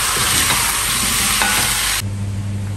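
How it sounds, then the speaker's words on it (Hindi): Chicken with turmeric fries on high heat, a loud steady sizzle with scraping stirs, then the sizzle abruptly drops to a softer, lower hiss with a faint hum. "हाई हीट पे थोड़ी देर फ्राई करनी है ताकि इसकी पानी ना सूख जाए"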